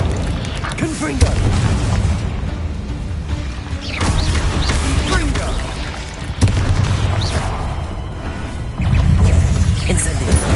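Confringo blasting-spell explosions in Hogwarts Legacy during a fight with giant spiders: repeated heavy booms and crashes over continuous game noise, with a voice talking throughout.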